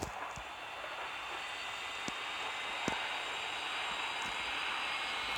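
Steady, droning roar of Airbus A380 jet engines in a flight simulator game, holding a constant pitch, with a few faint clicks scattered over the hum.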